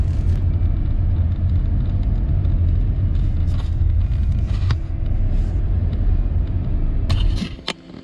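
Car driving along a road toward a national forest, with a steady low rumble of engine and road noise close up inside the vehicle that eases off at the very end.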